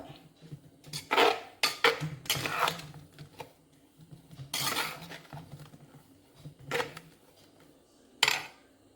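A spoon scrapes and knocks against a cooking pot while ground paste is stirred into a curry, giving irregular metallic clatters and scraping bursts at close range with no talk.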